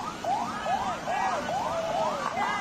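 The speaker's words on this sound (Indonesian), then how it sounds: "ambulans menerobos banjir karena orang sakit" An ambulance siren wails in a rapid repeating sweep as the vehicle pushes through a flooded street, loud and close and continuous throughout.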